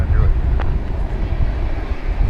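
An airliner taking off from runway 18L at DFW Airport produces a steady low engine roar, heard from a distance with wind noise and faint voices over it.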